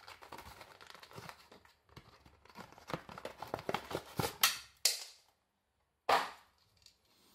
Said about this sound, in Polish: Czas na szybki unboxing jednego z wentylatorów.